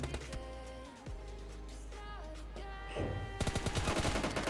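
Gunfire in the mobile battle royale game PUBG Mobile Lite, rapid bursts of shots with a burst of fast repeated cracks near the end, fairly close and loud, with no talk over them.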